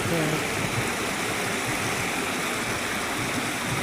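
Water spills over from a village irrigation tank after heavy rain, a steady, loud, broadband rush with no breaks that fills the whole scene.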